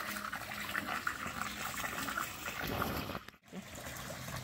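Water runs from a tap in a home kitchen while selroti batter ingredients are being soaked, a steady, soft trickling stream that cuts out briefly near the end before flowing again.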